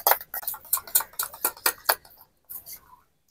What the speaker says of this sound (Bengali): এখানে আমি টক দই নিয়েছি, টক দইটা একটু ফেটিয়ে নেব।